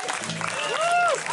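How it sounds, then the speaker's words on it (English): A crowd at the Boathouse in Guelph applauds during a band's concert set, brief clapping and cheering with a whoop rising over it. "Round of applause for you guys."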